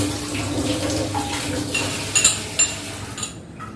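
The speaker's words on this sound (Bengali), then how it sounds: "হাত ধুয়ে নিয়েছি পরিষ্কার করে" Hands being washed under a running kitchen tap, steady close water flow with a few clinks and splashes, ending as the water stops.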